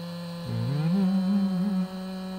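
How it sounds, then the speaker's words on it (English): A chainsaw engine roars up to speed and keeps running at a loud, steady buzz close by as it cuts a girdle ring around a honey locust tree. "We're to attack this thing with the chainsaw."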